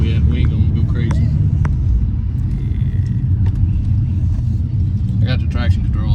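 A BMW pulls onto a highway on-ramp with traction control off, its engine rumbling steadily and loud inside the cabin while someone talks over it throughout.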